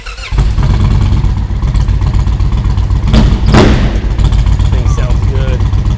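Custom-built motorcycle belonging to a former UFC champion, its engine idling loud and deep with a couple of sharp revs rising midway, a steady throaty rumble throughout and people talking faintly over it.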